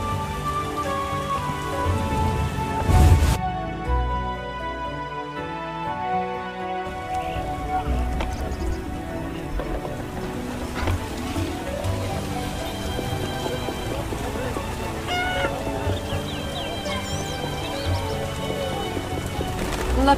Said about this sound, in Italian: La pioggia mi fa venire il mal di testa.